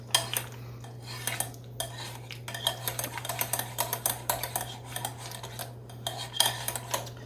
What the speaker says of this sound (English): Mix this up together.